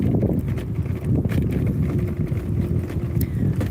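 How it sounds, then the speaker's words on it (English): Wind gusts buffet the microphone on Maryport Promenade by the sea, a loud, continuous low roar with irregular bursts and faint rustling throughout. "it already is a little breezy"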